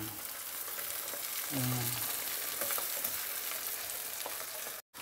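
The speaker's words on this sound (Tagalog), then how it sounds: "nagsasaute tayo ng onions and ilalagay na natin yung mushroom natin" Onions and mushrooms sauté in a pan for tuna pasta in spicy creamy sauce, a loud, constant frying sizzle with occasional stirring clatter and a short word spoken early on.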